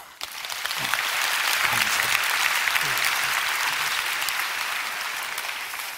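A church congregation applauds during a sermon, a dense, even wash of many hands clapping that sustains for several seconds.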